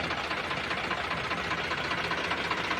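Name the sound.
Sonalika DI 60 RX tractor engine running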